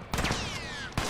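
Pistol fire in The Last of Us: two sharp, close reports about a second apart, with a thin high ringing whistle that sweeps downward between them.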